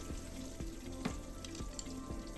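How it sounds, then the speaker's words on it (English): Coolant pours from a pried-off Triumph Modern Classic motorcycle radiator hose into a drain pan, a steady splashing trickle with faint periodic clicks underneath. "Then pry the hose off. This will allow the coolant to go everywhere."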